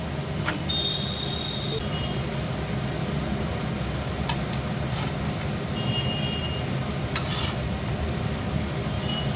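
Batter flatbread (gola ruti) frying in a pan gives a steady, soft sizzle throughout, with a few faint utensil taps over low background noise.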